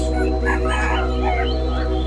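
Chickens crow and cluck amid the constant hubbub of a busy rural poultry and duck market stall, with birds calling over a steady low background noise.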